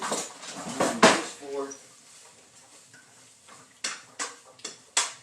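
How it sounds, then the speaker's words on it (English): Sliced peppers being stirred in a pan for Philly cheesesteak filling, with a few sharp utensil scrapes and clinks against the pan; a person talks over the first part. "let me stir these up a little bit. They're starting to get going, so I need to stir them up a little bit"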